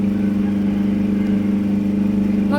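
Bread dough mixer machine running, a steady low electric motor hum with a strong constant tone, loud and unbroken, no voices.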